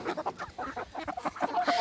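Free-range chickens cluck close by in a run of short, repeated calls that keep coming for the whole moment, with no voices.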